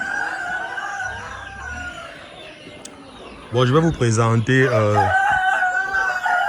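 Brahma roosters on a farm crow loudly and close in a long, drawn-out cock-a-doodle-doo, with further crowing and clucking around it, after someone speaks.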